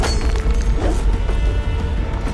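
Explosion in the video game Horizon Forbidden West, a loud, sustained booming rumble with crashing debris that fills the whole moment without a clear break.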